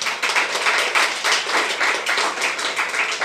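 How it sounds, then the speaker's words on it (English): Audience applause for a panel of women panelists at a climate, conflict and gender event, a steady dense wash of many hands clapping with rhythmic swells, moderately loud and sustained throughout. "Can you give them a big round of applause?"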